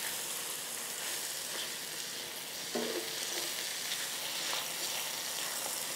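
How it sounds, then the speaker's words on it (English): Mushrooms sizzle in olive oil in a skillet, giving a steady, loud frying hiss with a brief clink of stirring partway through and no talk. "And they're gonna brown up nicely in this skillet."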